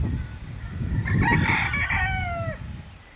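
A rooster crows once nearby, a full rising and falling call over low rumbling background noise.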